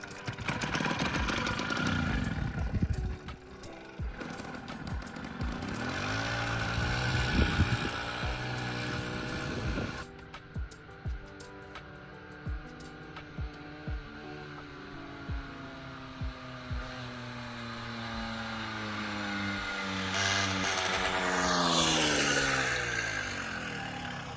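A minibike's small engine on a test ride, revving up and down in rising and falling pitch sweeps, with a steady stretch of popping firing pulses midway, loud and close with wind noise, no talking.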